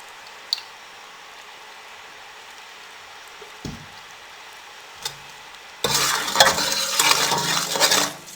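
Melted sugar and ghee being stirred in a pot for degi zarda: a mostly quiet stretch with occasional knocks, then loud, continuous scraping and sizzling stirring for the last few seconds.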